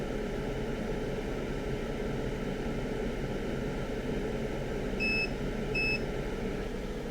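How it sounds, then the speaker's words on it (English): A multimeter on continuity test while repairing a MacBook A1278 logic board gives two short high beeps near the end, over a steady hiss of background noise, with no talk. "Test it. Continuity test."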